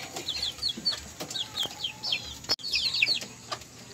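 A bulik hen, a lone scaleless-legged chicken, clucks repeatedly in a small backyard coop, short close chirpy calls in quick bursts with some rustling, no talk over them.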